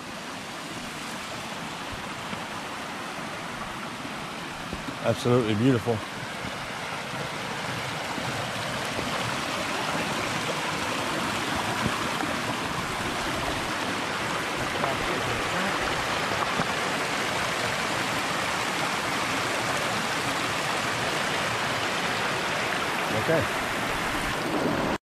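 Small stream trickling across a forest trail on the Upper Siouxon Trail in Gifford Pinchot National Forest, Washington, a steady broadband wash that runs unbroken throughout, with a brief spoken comment and a short knock early on.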